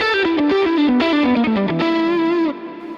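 Overdriven electric guitar through a Matchless DC30 amp model on a Fractal Axe-Fx, with a warm, slightly gritty vintage tone, plays a descending melodic line of sustained notes, ringing out alone before fading near the end.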